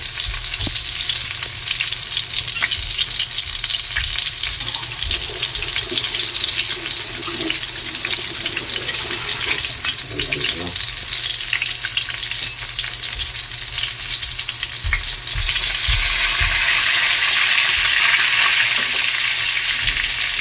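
Eggplant omelette (tortang talong) frying in oil in a pan, a continuous dense sizzle and crackle that grows louder toward the end, with occasional light knocks and no speech.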